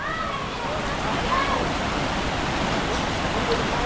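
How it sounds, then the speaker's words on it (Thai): Chak Din waterfall in a forest, its water pouring as a steady, dense rush of broadband noise with no break. "น้ำตกจักดินนะครับ"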